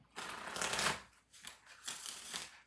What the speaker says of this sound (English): I'm going to get you one good riffle shuffled in.